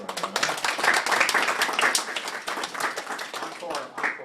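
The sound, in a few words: audience applause at poetry reading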